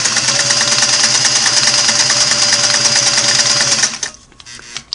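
A restored Singer Model 503A sewing machine running a wide, close zigzag stitch, a loud steady mechanical whir and rapid clatter that stops abruptly near the end, leaving faint room noise.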